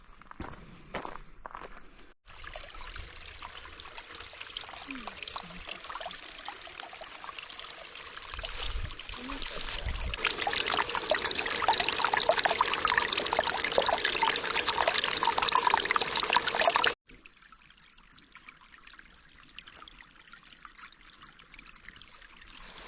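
Water trickling and splashing steadily from underground along the Appalachian Trail, growing louder midway, with footsteps crunching nearby; no talking.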